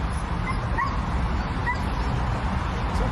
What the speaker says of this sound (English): Is there a dog in this car?